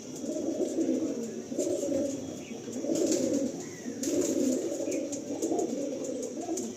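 Pigeons offered for sale, cooing in repeated low, throaty rolling phrases close by, with a steady hiss and faint chirps in the background.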